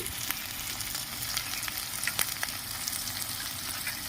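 Ginger-garlic paste sizzles and fries in a pan, a steady close crackling hiss with scattered pops and light stirring scrapes, no voices.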